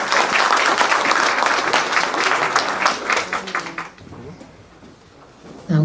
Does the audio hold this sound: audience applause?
yes